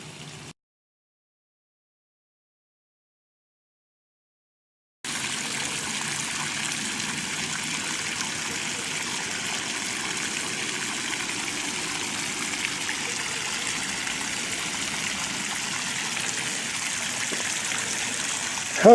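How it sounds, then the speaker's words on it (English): Flood water streams down a street and parking lot in Apple Valley, a steady loud rushing flow that starts abruptly after a few seconds of silence and continues unbroken. "It's a lot of water."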